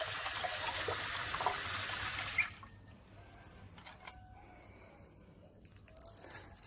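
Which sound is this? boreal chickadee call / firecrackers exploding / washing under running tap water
washing under running tap water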